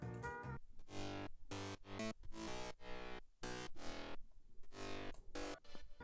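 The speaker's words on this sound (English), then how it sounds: "I'm also adding this super bad sounding saw bass layer" A saw bass synth layer from an electronic music production plays in choppy, rhythmic stabs, bright, buzzy and heavily harmonic, starting and stopping in a quick pattern at low volume with no voices.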